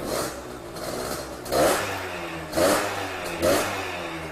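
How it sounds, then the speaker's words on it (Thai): A freshly rebuilt Yamaha DT100 two-stroke motorcycle engine idles steadily with a low mechanical putter, then briefly revs up three times in rising bursts before settling back. "ดูเสียงเครื่องยนต์ เงียบกริบครับ"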